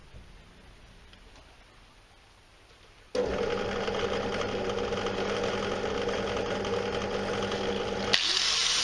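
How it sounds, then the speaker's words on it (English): Angle grinder with a flat disc grinding a brass petrol pump piece: after a quiet start it bursts into a loud, steady whine that holds for about five seconds, then cuts out abruptly. "I'm just going to blast it with a flat disc on an angle grinder."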